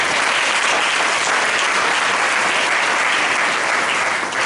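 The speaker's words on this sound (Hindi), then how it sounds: "उस महान परमेश्वर के नाम से एक बार ताली हो जाए।" Church congregation bursting into steady, dense applause in honour of God, loud and continuous with no talk over it.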